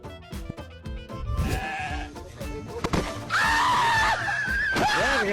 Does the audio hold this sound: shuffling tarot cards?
no